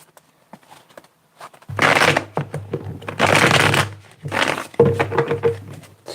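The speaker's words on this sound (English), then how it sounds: "Let me get 3 more shuffles here." Tarot cards are shuffled by hand in a few separate bursts of riffling, close and crisp, with short quiet pauses between them.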